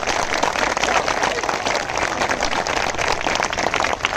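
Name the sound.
audience clapping on request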